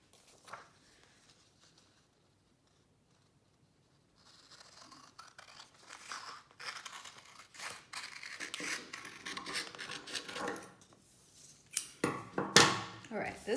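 Scissors snip through origami paper in a quiet room, a run of short crisp cuts and paper rustles building toward louder snips near the end, with some handling noise mixed in.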